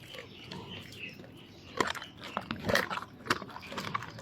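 A tiger biting into and chewing raw chicken, wet crunching and tearing bites that grow sharper and more frequent partway through, heard up close without speech.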